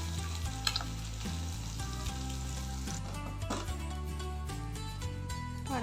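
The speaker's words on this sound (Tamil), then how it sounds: "பன்னீரை ஃப்ரை பண்ணி எடுத்துக்கோங்க" Paneer fries in a pan with a steady, close sizzle, alongside soft background music and no talking.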